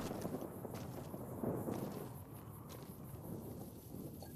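Low, rolling thunder rumble in Fallout New Vegas, a long continuous roar with steady rain-like hiss above it, fairly loud throughout with no talk.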